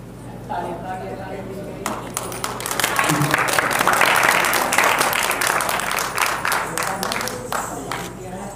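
An audience applauds at an award ceremony honouring a film, with steady clapping that swells in the middle and continues beneath someone speaking into a microphone.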